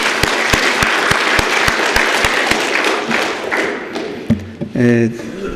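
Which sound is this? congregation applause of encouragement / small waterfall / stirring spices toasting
congregation applause of encouragement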